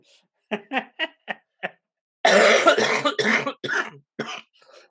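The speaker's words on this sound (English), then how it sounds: "Are you still coughing?" A short run of five quick coughs, then a longer, harsher fit of coughing and throat clearing, close and loud, with no talking.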